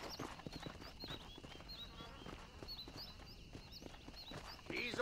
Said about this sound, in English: This steed looks right fetchy.